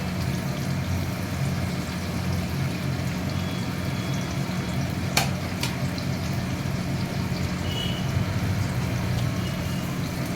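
Chopped onion, garlic and tomato frying in oil in a kadai for an aromatic fish curry (ayr fish kalia) make a steady, continuous sizzle throughout, with a couple of brief sharp clicks midway and no talking.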